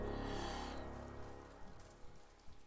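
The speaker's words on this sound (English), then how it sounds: "But then the rain began to fall." Rain falls in the video game Ender Lilies, a soft steady hiss of drops on surfaces. Faint tonal game music fades out early, leaving the quiet wash of rain with a few scattered patters.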